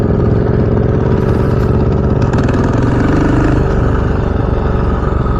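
A motorcycle engine rumbles loud and close in a steady, continuous drone while riders practice wheelies in a lot.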